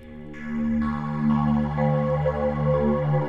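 Soft sustained synth pad from the Razor Chill library in Native Instruments Reaktor, warm held low chords with gently shifting harmonics, steady and close, playing alone without speech.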